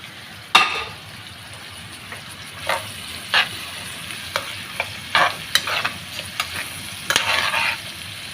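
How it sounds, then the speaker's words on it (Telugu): Ridge gourd pieces hit a hot tempering of curry leaves, cumin, mustard seeds and onion, frying with a steady close sizzle and punctuated by sharp spatula scrapes and stirring knocks. "ఇప్పుడైతే కట్ చేసి పెట్టుకున్న బీరకాయ ముక్కలు అయితే వేస్తున్నాను"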